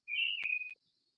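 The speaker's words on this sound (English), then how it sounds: "you hear the birds chirping?" A single clear, high bird whistle sweeps briefly, interrupted by a sharp click, then fades into silence.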